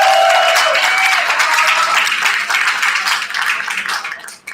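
An audience at a fishing charity meet-and-greet breaks into sustained applause, a dense wash of many hands clapping close by that holds steady and then thins out toward the end.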